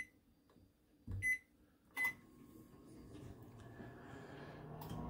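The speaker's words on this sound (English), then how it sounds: "Microwave it again for about, 10, 15 seconds." A microwave oven heating eggs with cheese: a quiet click and short beeps, followed by a low steady hum of the oven running, faint and close.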